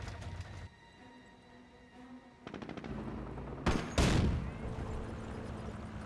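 Gunfire and shelling in the World War II strategy game Company of Heroes: short machine-gun bursts sound over a low battlefield rumble, followed by a loud, sharp explosion near the end and continuing fire.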